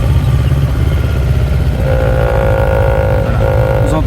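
A CFMOTO 700 MT motorcycle engine runs up close and loud, its steady low rumble carrying a buzzing mechanical vibration and rattle, with a higher resonant tone rising partway through.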